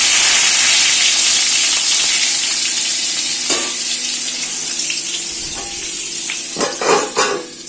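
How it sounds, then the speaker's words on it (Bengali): Two pieces of eggplant frying in a pan give a loud, steady sizzle with light bubbling and crackle that eases slightly over time, a few soft clinks near the end. "দু পিস বেগুন আছে, ভাজতে দিয়ে দিলাম।"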